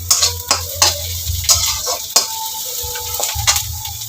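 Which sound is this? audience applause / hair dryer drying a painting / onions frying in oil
onions frying in oil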